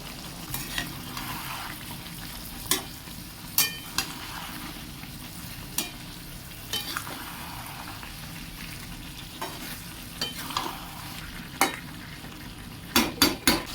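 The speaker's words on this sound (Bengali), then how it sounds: "দু থেকে চার মিনিট কষে নেওয়ার পর দিয়ে দেবো ভেজে রাখা উচ্ছেগুলো" Fried bitter gourd is stir-fried in a pan with pumpkin, a continuous sizzle broken by scattered metallic taps and scrapes of the spatula against the pan that cluster quickly near the end, close and alone.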